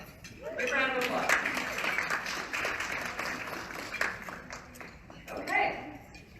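Audience applause breaks out at an Indiana women's event, steady broadband clapping for several seconds with voices and cheers mixed in, dipping midway and swelling again near the end.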